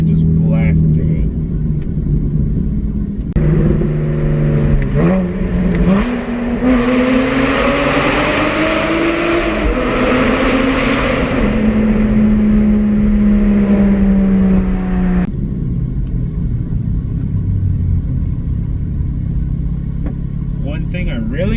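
A straight-piped Porsche Cayman S, daily driven, roars on the road with a loud sustained rumbling exhaust that rises in pitch as it accelerates through the middle, then settles back to a steady drone.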